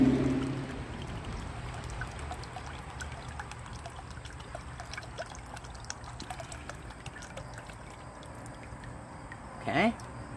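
Baking soda water pours and trickles out of an antique bottle in a steady, faint stream, starting stronger and tapering off, with a brief louder splash near the end.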